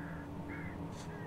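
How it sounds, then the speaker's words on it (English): Crows caw in the Alan Wake video game, a few harsh calls breaking over a steady ambient drone, moderately distant and not loud, with no one speaking. "Oh, those birds."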